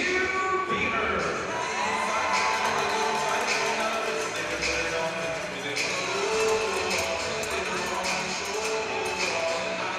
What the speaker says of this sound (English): Quite the reception from the crowd